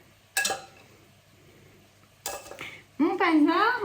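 Dishes and cutlery clatter in a home kitchen while cooking, two brief bursts of clinking and scraping separated by a quiet pause, followed by a sustained whining tone at the end.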